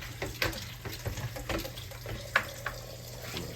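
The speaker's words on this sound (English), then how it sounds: "Y'all see I'm just going to rinse that." Running tap water splashing in a kitchen sink as dressing is rinsed off cooked food, with irregular splashes and spatters over a low steady hum, fairly close.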